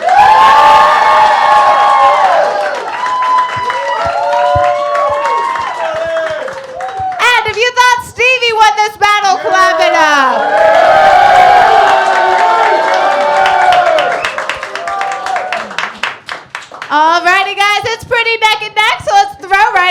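Audience at a comedy roast battle show clapping and cheering loudly, with shouts and excited voices rising in bursts and a host's voice talking over parts of the crowd.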